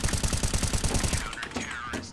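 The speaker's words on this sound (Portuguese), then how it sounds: "Nossa, tomou muito tiro" Rapid bursts of automatic gunfire in a tactical shooter bomb-site round, a steady fast rhythm of shots up close for over a second before trailing off into quieter game sounds.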